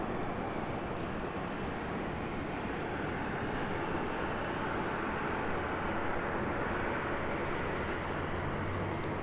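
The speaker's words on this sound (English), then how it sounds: "this flight heading to Detroit on this Delta 757-200" A Delta Boeing 757-200 jet at LAX makes a steady, broad engine roar that holds constant and fairly distant throughout, with no voices.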